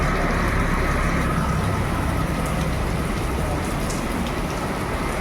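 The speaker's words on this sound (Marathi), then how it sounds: "बघा आता आम्ही हा पावसामध्ये आले." Heavy rain pouring during a thunderstorm outside a mall, a loud, dense, continuous roar of rainfall with no distinct breaks.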